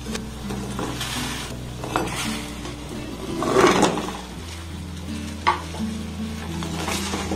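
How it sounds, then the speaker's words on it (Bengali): Gaja sweets dropped into sugar syrup in a pan, giving a steady stirring and bubbling sizzle with scraping of utensils against the pan, a louder splash-like burst midway and a brief clink later. "এবার দেখুন, এই গজাগুলোকে শিরার মধ্যে আমি দিয়ে দেব।"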